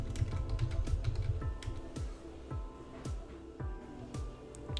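Typing on a computer keyboard: a quick run of clattering keystrokes at the start, then scattered individual key taps at an irregular pace, close and moderately quiet.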